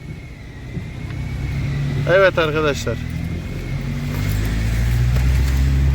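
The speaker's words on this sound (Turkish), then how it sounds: "Sabahki gitmeyen araba şimdi gidiyor arkadaşlar." A car that would not start earlier in the day now drives along, its low engine rumble steady and rising slightly toward the end, with someone speaking briefly over it.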